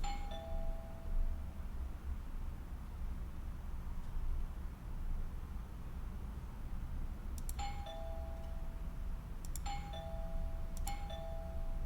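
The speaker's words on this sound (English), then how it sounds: "Let's ring the doorbell." An electronic doorbell chimes in an indie horror video game, ringing once at the start and then three more times in quick succession near the end, clear tones over a low, dark ambient rumble.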